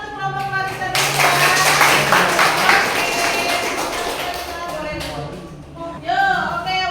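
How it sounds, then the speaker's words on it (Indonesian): Classroom of students applauding a student group, a dense burst of clapping lasting several seconds, with voices speaking before and after. "Beri tepuk tangan untuk kelompok Clarissa dulu ya."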